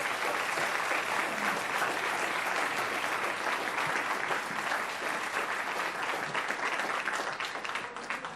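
Steady, dense applause from a large audience at a school awards ceremony, many hands clapping continuously at full strength for about eight seconds before tapering slightly at the end.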